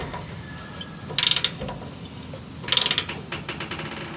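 A ratchet clicks in two short bursts while tightening a bolt on a CJ5 Jeep rollover valve, with quiet workshop background in between.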